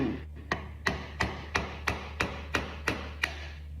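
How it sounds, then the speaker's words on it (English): Ten sharp metallic hammer strikes in a steady rhythm, each a loud close whack driving a flathead screwdriver through a hollow oil filter, with no talking. "Take a flathead screwdriver and a hammer"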